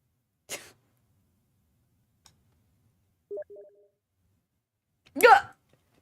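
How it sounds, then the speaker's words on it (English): A few short electronic notification chimes pop up between quiet gaps, along with a couple of brief bursts of noise, each sound isolated and fairly close. "Does anyone know how to turn off those notifications?"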